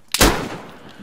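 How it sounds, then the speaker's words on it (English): A single loud gunshot crack from a video game firefight, close and sharp with a short ringing decay, standing alone without talk. "Who the fuck is shooting me?"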